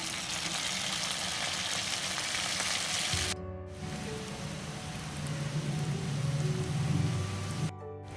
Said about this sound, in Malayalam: എണ്ണ നന്നായി ചൂടായി വരുമ്പോൾ നമുക്ക് ഇതിലേക്ക് മക്രോണി ഇട്ട്